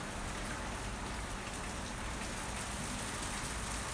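Heavy rain pours steadily during a hurricane storm near Jamaica, a dense, continuous hiss with no break.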